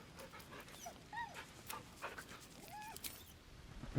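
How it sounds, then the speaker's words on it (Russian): A dog in Baldur's Gate 3 pants softly and lets out several high, whining whimpers, close and fairly quiet against faint background ambience. "Погладим еще раз собачку."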